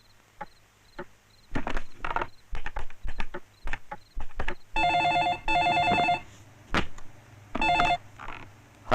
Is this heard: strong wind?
no